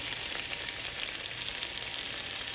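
A sausage egg in a hole fries in a pan, a steady, soft crackling sizzle with no talk over it.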